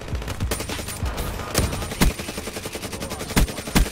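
Rapid automatic bursts from the Peacekeeper gun in a Call of Duty match, loud and close, with sharp individual shots rattling in quick succession and a few heavier cracks punctuating the stream.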